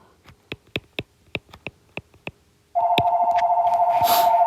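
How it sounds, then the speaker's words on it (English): A telephone rings loudly in a steady continuous electronic trill, starting abruptly after a series of short, sharp clicks or taps heard alone beforehand. "Now we have a phone ringing here."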